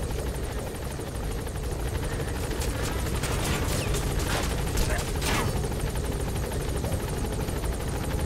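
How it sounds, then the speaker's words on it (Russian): Helicopter in the video game Metal Gear Solid V: The Phantom Pain, a steady loud rotor roar with choppy blade pulse throughout, joined midway by bursts of sharper noise like gunfire. "Этот вертолет от меня отстанет,"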